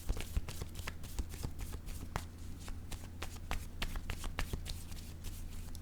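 Tarot cards are shuffled by hand in quick, soft riffling bursts and slaps, fairly quiet and close, with a low hum in the background.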